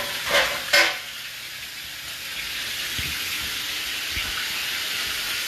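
Pot roast sears in a hot pan, a steady broadband sizzle that runs throughout, with a couple of louder hisses near the start as the meat settles and faint low clunks later; no talking.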